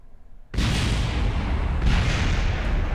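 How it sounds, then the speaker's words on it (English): An explosion in Kerbal Space Program bursts in suddenly after a short quiet lead-in, a loud broadband roar that sustains with a second surge midway. "We got to see a real cool explosion"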